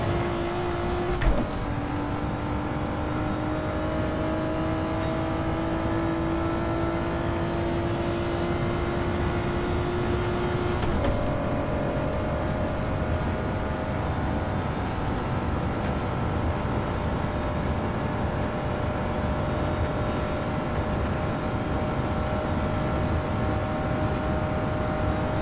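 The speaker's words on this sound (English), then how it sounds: "Four-wheel drift through that whole turn." A car in Gran Turismo 7 four-wheel drifting through a long turn: a loud, steady engine drone with a sustained tonal whine that shifts pitch as revs change, plus a continuous hiss of tyre noise, with no voices.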